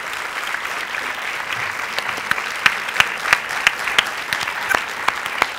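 An audience applauds at a live comedy show, a steady, dense wash of clapping with sharper individual claps standing out, moderately loud and with no talking.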